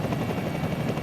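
A patrol helicopter fitted with high-precision cameras flies over Gibraltar, its rotor and engine making a steady, continuous droning roar with no voices over it.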